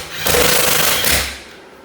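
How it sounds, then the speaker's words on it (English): A power drill drives screws into a mobile home cabinet drawer face, giving one loud, close burst of motor whine and grinding that lasts about a second before trailing off. "I'll go ahead and put the rest of the screws in these here."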